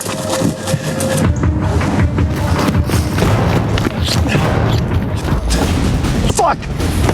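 Gunfire and heavy thuds crack through a tense manhunt chase, loud and continuous, with shouting voices mixed into the chaos.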